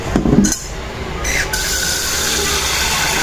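A short clatter, then water runs steadily into a container, a close continuous filling sound.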